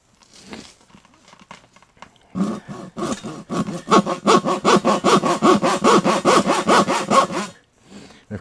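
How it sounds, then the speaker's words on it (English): A manual PVC pipe saw cuts into a Troy-Bilt 24-inch snowblower impeller with loud, rhythmic back-and-forth rasping strokes, close and steady, after a few tentative scrapes at the start. "This is a PVC pipe saw."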